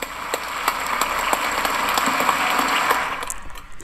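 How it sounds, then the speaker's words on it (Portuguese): Heads of state rise to give Lula a standing ovation, a steady wash of dense applause from a large hall audience that holds throughout with scattered sharper claps before thinning near the end. "os chefes de Estado todos se levantam ali e aplaudem o Lula de pé"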